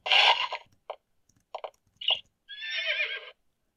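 Horses neigh in the Exile III video game, first a loud whinny, then a few short snorts and clip-clop bursts, and finally a long wavering whinny, heard up close against silence.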